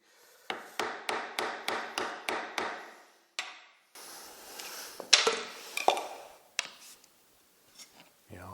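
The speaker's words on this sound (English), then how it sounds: "I'm just using the pry bar and just pushing it apart now." Pry bar working apart the halves of a 510 final drive: a run of about eight sharp rhythmic metallic clacks, followed by scattered scraping and knocking of metal parts, close and fairly quiet.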